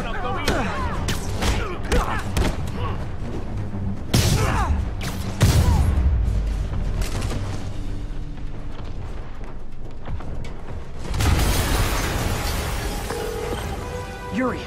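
Explosion during gameplay of Spider-Man on PS4: heavy booms and crashing impacts around the middle and near the end, set among layered game effects and rumble, with a voice speaking at points.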